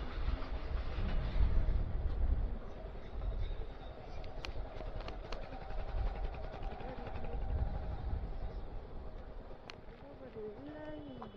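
A train rolls past a railway level crossing gate, a heavy, continuous low rumble with rhythmic wheel clatter, heard from nearby with other background noise mixed in.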